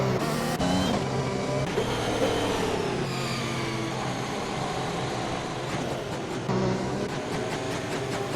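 Race car engines drone steadily in a sim racing game on the Austria circuit, a pack of cars running behind the safety car, with continuous mid-pitched engine tone and occasional revving layered throughout.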